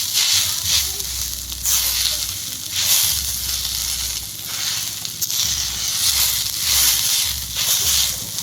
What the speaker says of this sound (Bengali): আলুটাকে সুন্দর করে একটু ভালো করে ভেজে নেব হালকা করে